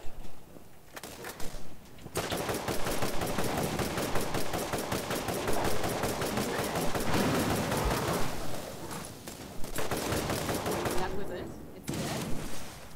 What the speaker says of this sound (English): I'm gonna shoot the Elder Skag first